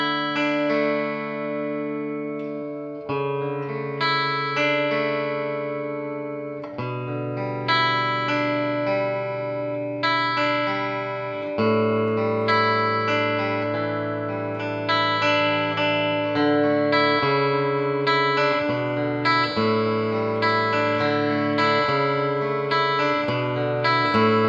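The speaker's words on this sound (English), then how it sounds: "And here it is with a subtle reverb." Electric guitar played through an Old Blood Noise Endeavors Procession reverb pedal set to a subtle, short reverb, sustained chords and notes ringing continuously for about 25 seconds, clear and upfront with no talking.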